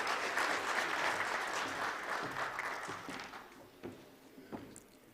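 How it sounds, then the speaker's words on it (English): A forum audience applauds a minister, dense clapping from many hands that starts full and gradually thins out, leaving a few scattered last claps near the end. "let us give a round of applause to our minister"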